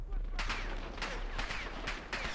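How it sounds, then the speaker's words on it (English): Repeated gunshots in the video game Modern Warfare crack out at a steady pace, about five distinct reports over a continuous low rumble of background noise, fairly close and moderately loud. "I'm trying to see where they're shooting me from"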